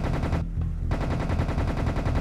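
Rapid automatic gunfire from the Serious Sam shooter game, a dense continuous burst of shots with a short dip before the firing resumes, loud throughout with no talk.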